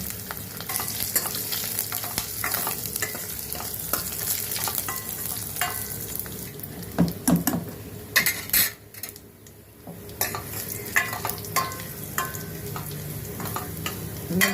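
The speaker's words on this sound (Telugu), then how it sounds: "పోపు వేగిపోయింది" Dried chilli, cumin, curry leaves and a pinch of asafoetida fry in hot oil for a Telugu tempering, with a continuous crackling sizzle broken by scraping spoon stirs and metallic pan knocks, close and steady.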